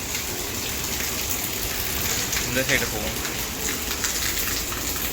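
Heavy rain falls outside a home as a steady, dense hiss throughout, with people talking over it.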